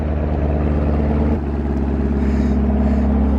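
A Chevrolet Camaro 1LE engine runs close by, holding a loud, steady rumbling idle with a slight shift in tone partway through.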